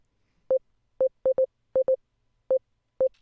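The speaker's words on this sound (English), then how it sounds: "a really strange sounding synth representation of that kick drum performance" Synth sine wave tracing a kick drum MIDI performance: eight short, clean mid-pitched tone blips in an uneven rhythm, some paired close together, isolated against silence and fairly quiet.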